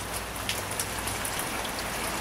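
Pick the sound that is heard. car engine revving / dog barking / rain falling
rain falling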